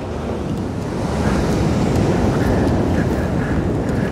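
Ocean surf breaking on a beach at Kalbarri, Western Australia, a steady broadband roar of waves with wind buffeting the microphone, swelling slightly louder after the first second and holding constant throughout.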